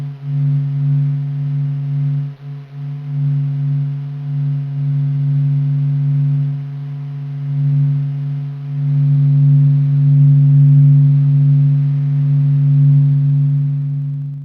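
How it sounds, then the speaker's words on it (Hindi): Sun recording from NASA's Parker Solar Probe rendered as sound, a steady low droning hum with a couple of pure tones that waver and pulse slightly, continuous and eerie with no voices. "यह आवाज नासा द्वारा सूर्य के अध्ययन के लिए भेजे गए यान पार्कर सोलर प्रोब द्वारा रिकॉर्ड किया गया एक अद्भुत उदाहरण है"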